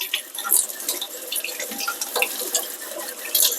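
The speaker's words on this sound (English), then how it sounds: "Using cold water, just go ahead and rinse" Cold tap water runs and splashes over freshly harvested rhubarb stalks as they are rinsed, a steady close stream broken by irregular spattering and dripping.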